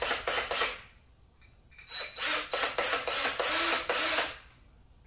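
Cordless screwdriver backing screws out of a kitchen cabinet door, with several short whirring bursts of the motor separated by pauses, close and fairly loud.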